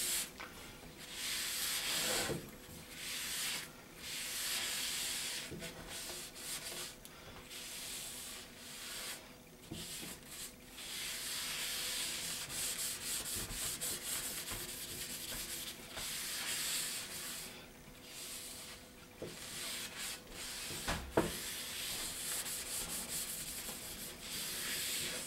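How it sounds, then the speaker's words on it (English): A cloth wiping excess oil off a cast iron pan, with steady rubbing strokes in an uneven repeating rhythm, close and fairly quiet, with no talk over it. "Now I'm going to wipe off any excess."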